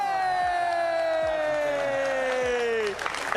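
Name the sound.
crowd cheering at Rocket League World Championship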